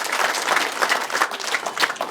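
Audience applause at a wedding ceremony, a dense burst of many hands clapping continuously for a couple of seconds, fairly close and without speech.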